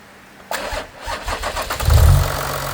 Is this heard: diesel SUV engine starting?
yes